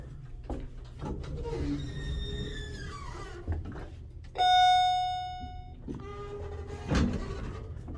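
Chimes of a Noble hydraulic elevator, formerly Otis, in a library: clear electronic tones ringing out, the loudest sustained chime in the middle, over door and car rumbling.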